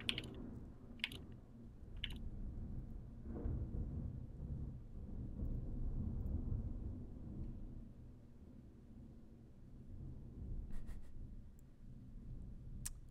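Thunder from a storm outside rolls in long, low swells that rise and fade, faint and distant, with scattered computer keyboard clicks and taps close by during a gaming session.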